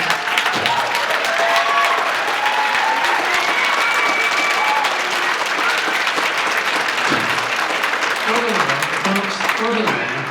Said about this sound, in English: the clapping is using your time